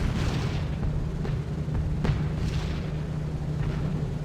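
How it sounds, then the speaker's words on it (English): Flak explosions in the B-17 The Mighty 8th flight game: a steady low engine drone with several muffled booms and bursts landing at irregular intervals, one sharper crack standing out midway, all at a fairly constant loud level. "we're starting to get underneath the main block of flak now"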